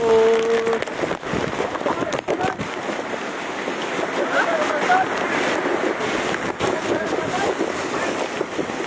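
Strong wind roars and gusts in a constant rush with heavy rainfall underneath, buffeting the microphone during a storm with flooding, while a voice speaks briefly early on.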